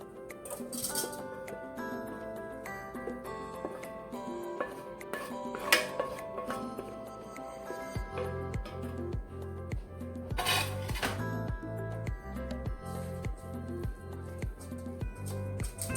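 Dishes and cutlery clinking and scraping as cooked spinach with onion and garlic is moved into a bowl, a run of close metallic knocks and taps over soft background music.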